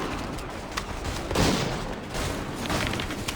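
Musket gunfire in the video game Assassin's Creed III, with a few scattered shots and a rising burst of fire around the middle, mid-distance and fairly loud against steady background noise.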